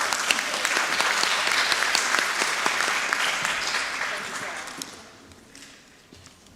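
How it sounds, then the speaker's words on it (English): Applause from the audience at a women political leaders summit session: loud, dense clapping that continues for several seconds, then fades away into near quiet, with a single clap at the end. "Can we give her a big hand clap?"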